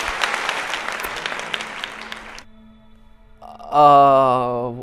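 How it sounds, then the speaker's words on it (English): Studio audience applause greets a guest on an entertainment show, a dense wash of clapping for about two and a half seconds that cuts off, followed by a brief lull and then a loud sustained musical tone. "Let's give him a round of applause"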